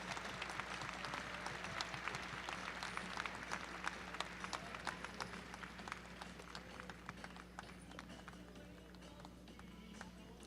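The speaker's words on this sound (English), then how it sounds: "we ask that you give them a nice round of applause as they make their way out" An audience in an arena at a youth team driving event claps faintly and steadily, with scattered hand claps and hoofbeats in the distance, while a voice talks over it.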